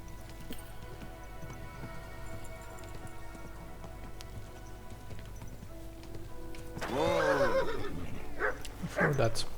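A horse neighs loudly in a long, wavering whinny in Kingdom Come: Deliverance 2, followed by a shorter snort-like call, over steady patter of rain.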